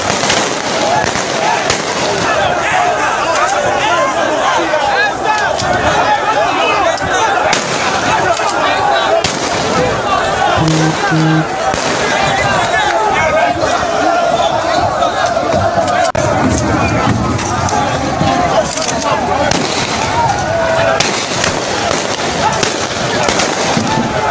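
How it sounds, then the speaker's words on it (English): Soldiers firing guns at protesters during an #EndSARS demonstration in Nigeria, sharp cracking shots scattered through a dense, loud crowd roar with shouting voices throughout, some reports close and others more distant. "The army with their gun approach the protesters. Some shoot up and some shoot straight at them."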